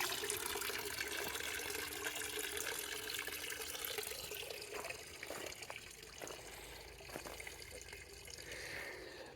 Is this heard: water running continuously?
yes